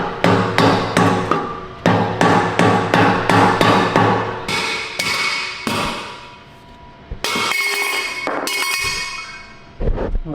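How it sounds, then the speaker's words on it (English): Rapid metallic hammer blows knock old exhaust tips off a BMW, ringing out in quick, loud, close bursts of clanging strikes on metal with brief pauses between runs of hits. "you might need one of these to hammer these old tips off"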